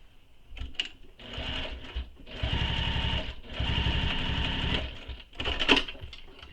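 Short runs of a sewing machine stitching striped fabric near a zipper, building to a steady whirring chatter in the middle and ending with brief clicks and a sharp tap.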